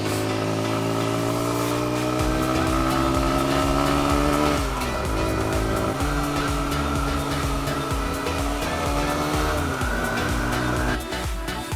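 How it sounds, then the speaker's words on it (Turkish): A car climbs a dusty dirt road high on a mountain, its engine droning loudly and steadily throughout, with tires slipping and scrabbling on the loose surface and a brief dip near the end. "Lastikler bırakıyor biraz."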